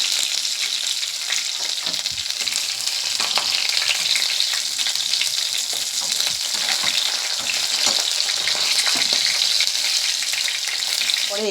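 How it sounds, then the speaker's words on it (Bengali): Sonabogo river fish pieces crackle in hot oil in a continuous, loud, close sizzle, broken by scattered stirring and scraping clicks, with no voices. "দেখুন মাছটা কত সুন্দর ভাজা হয়েছে।"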